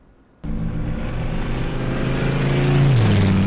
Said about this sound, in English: You see a car drive and then you see what looks like a UFO, but then you hear the helicopter sound under it